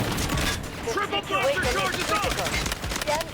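Gunfire in the shooter Delta Force rattles in rapid bursts, close and dense, while a player talks excitedly over the shooting.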